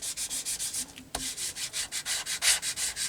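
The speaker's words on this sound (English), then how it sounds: "Where's my card to rub all this in with?" A card rubbed briskly back and forth over glued paper on a junk journal collage, a close, regular scraping stroke repeated about five times a second with a brief pause midway.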